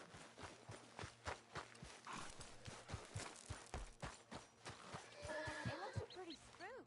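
A horse in Red Dead Redemption 2 clip-clops along with steady hoofbeats and gives a whinnying neigh near the end, heard faintly with someone talking over it.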